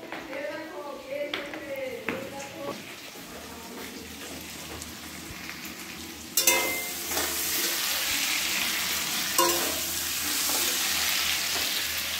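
Potatoes frying in a pan for a curry in a home kitchen, a soft sizzle at first that swells into a loud, steady crackling hiss partway through, with voices talking over the earlier part.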